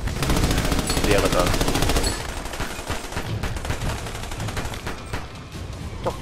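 Rapid bursts of automatic gunfire in the shooter game Army of Two: The Devil's Cartel, dense rattling volleys that thin into scattered single shots, with someone briefly speaking over them.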